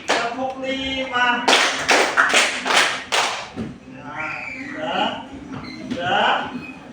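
A school class claps hands together in rhythmic unison, a run of loud sharp claps in quick succession followed by children's voices chattering and shouting over a noisy classroom background.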